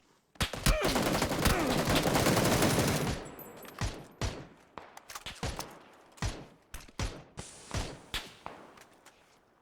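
Gunfire in the PUBG video game: a dense burst of rapid automatic fire for about three seconds, then a string of separate sharp single shots spaced irregularly, close and loud with little talk.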